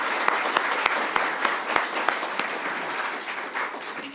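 An audience at a deputy police chief introduction ceremony applauds, a steady broad patter of many hands with a few sharper nearby claps standing out, holding even and moderately loud throughout.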